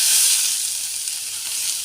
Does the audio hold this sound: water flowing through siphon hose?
no